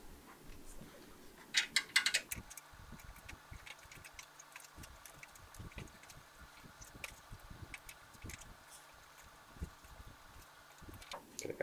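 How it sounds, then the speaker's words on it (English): A screw is driven in to mount a hard drive in a server build, giving faint, quiet ratcheting clicks and small metallic scrapes in a rapid, uneven series. "so we'll get a screw in here"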